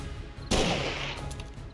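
A single sharp gunshot in 7 Days to Die cuts in suddenly midway and decays quickly over a quiet background hum.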